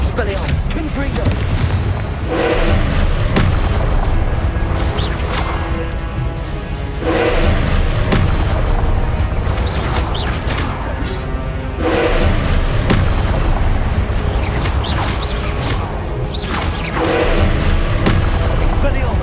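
Loud, continuous Confringo spell blasts from Hogwarts Legacy boom and burst in quick succession over a dense layer of combat noise, with a spoken voice woven through the fighting.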